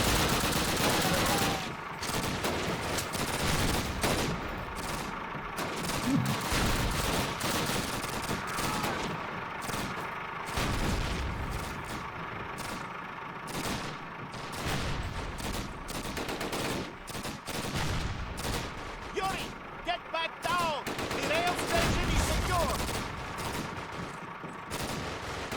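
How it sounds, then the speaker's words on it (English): Bursts of automatic weapon fire crackle and rattle in Call of Duty: United Offensive, dense repeated volleys across the whole stretch with brief lulls and louder clusters near the end, with a little indistinct background voice. "Behold what Yuri could achieve when he has an automatic weapon!"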